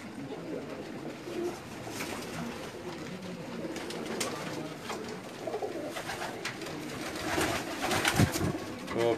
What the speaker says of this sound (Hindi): ये कबूतर था